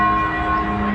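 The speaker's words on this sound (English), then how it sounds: "The bells ringing in Pope Leo's honor at Villanova University in Philadelphia" Church bells at Villanova University in Philadelphia ring for Pope Leo, a loud, sustained metallic tone with lingering overtones filling a brief moment.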